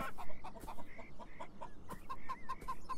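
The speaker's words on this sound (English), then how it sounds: "this is literally just like chickens in a coop" Chickens cluck and chatter in a coop in the video game Beyond Eyes, with a rapid, uneven series of short clucks and a few longer squawks at moderate loudness.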